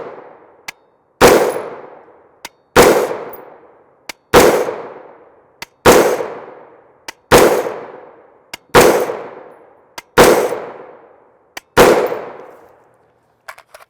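Eight sharp, loud gunshots from a 7.5-inch PSA short-barreled AR rifle firing M855A1 5.56 NATO ammunition, spaced at a steady slow rhythm, each with a ringing outdoor decay and a faint click before it.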